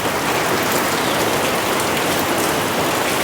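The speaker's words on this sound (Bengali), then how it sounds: "বুঝলাম না শীতকালে আবার আবার বৃষ্টি কেমনে হয়" Winter rain falling in a dense, constant downpour, loud and close with an even wash of patter on surfaces and no voices.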